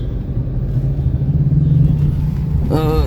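A Hyundai Creta drives along a road, its engine and tyre rumble a steady low drone heard from inside the cabin, with a brief chirping tone near the end.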